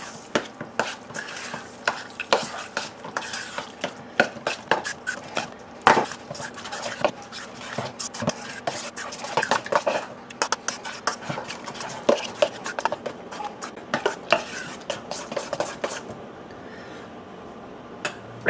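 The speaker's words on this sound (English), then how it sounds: "Mix this all thoroughly together." Herb stuffing ingredients with brown sugar being stirred together in a bowl, producing a busy, close stream of scraping, tapping utensil strokes that keeps on for many seconds before briefly easing off.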